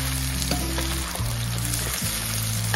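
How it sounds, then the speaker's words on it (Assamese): Duck meat and potatoes frying in a large wok, a steady loud sizzle running throughout with a few scrapes and stirring knocks, no talking. "আলুখিনি অকণমান ভাজি লোৱা হ'ল"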